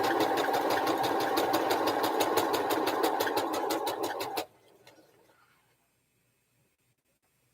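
Sewing machine stitching a foundation paper pieced quilt project, a rapid steady needle rhythm running loud and close for several seconds, then stopping abruptly into near silence.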